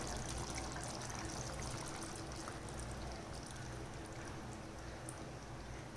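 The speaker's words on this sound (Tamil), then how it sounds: "அந்த தேங்காய் பால் சேர்த்துக்கலாம்" Coconut milk is poured into a ridge gourd and drumstick curry in a steady, faint, continuous liquid trickle with no voices over it.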